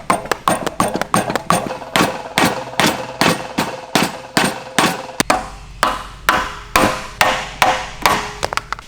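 A hammer taps polyurethane bushings into the rear subframe of a BMW 335i in a long run of sharp, evenly spaced strikes, about two or three per second, close and loud, with no talking.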